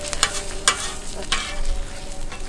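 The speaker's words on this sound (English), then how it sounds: "I gently scrambled 2 eggs" Eggs are scrambled and fried in oil on a Camp Chef single-burner camp stove, a steady sizzle under a few sharp scraping stirs of a utensil against the pan, close and clear.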